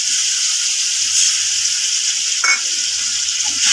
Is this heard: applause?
no